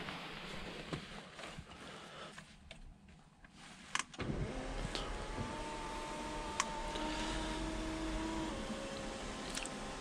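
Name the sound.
Porsche 991 sunroof closing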